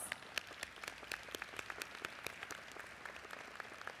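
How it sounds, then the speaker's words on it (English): Sustained applause from a commencement crowd, many hands clapping densely and evenly for several seconds at a steady, moderate level. "give those families and loved ones a round of applause"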